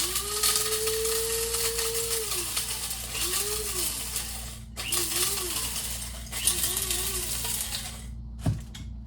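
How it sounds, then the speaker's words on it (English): A Krups coffee grinder grinding mesquite pods whirs in several bursts, its motor pitch rising and falling with rattling and crunching, ending with a sharp clack. "I'm gonna put them in the coffee grinder"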